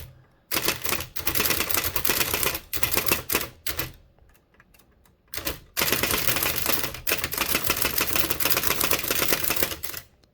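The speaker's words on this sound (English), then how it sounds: "I'd actually say that this machine brings forth a typing experience a bit closer in character to the original type bar machines." Rapid bursts of typing on a Hammond Multiplex typewriter, dense clattering keystrokes in long runs broken by short pauses, close and loud with no voices.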